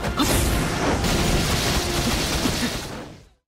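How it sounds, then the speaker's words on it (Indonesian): A powerful energy explosion from an attack in an animated fantasy battle: a loud, continuous roaring blast that fills the space for about three seconds before tapering off abruptly. "Saking kuatnya serangan dari Morongi, sebuah ledakan kekuatan pun muncul."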